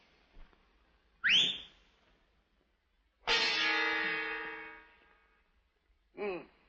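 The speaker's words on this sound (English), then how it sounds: "Can you whistle like this?" A person whistles in three separate bursts: a short rising whistle, a long sustained tone with rich harmonics lasting about two seconds, then a brief wavering whistle, all fairly loud against a quiet background.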